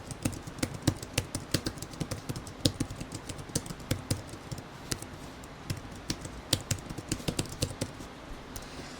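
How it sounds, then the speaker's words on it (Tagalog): Fast, steady tapping on the keyboard of a Tecno Megapad 2 tablet during a typing test: dense, irregular clicks run continuously and fairly close, with no voices. "medyo alam ko na yung reach ng daliri ko dito sa keyboard, ito yung ating second typing test"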